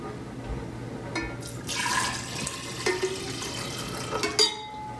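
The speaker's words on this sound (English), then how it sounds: "And then you'll fill that vase up with some water." Water pours into a vase holding pepper, a steady watery splash and trickle that swells and fades over several seconds, close by with no talking.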